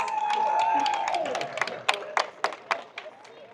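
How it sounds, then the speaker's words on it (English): An audience at an aquarium sea lion show applauds, a steady wash of clapping from a crowd that thins into scattered louder claps, with a voice speaking over the start. "let's welcome her to the show with a big round of applause"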